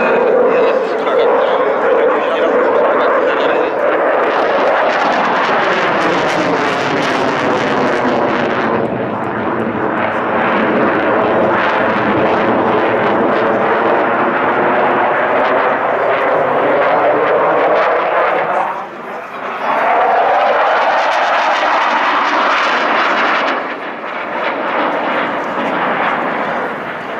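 Fixed-wing aircraft performing at the 2015 Radom Air Show, a loud, sustained engine roar whose pitch swells and sweeps as the plane passes, dipping briefly before a second surging pass.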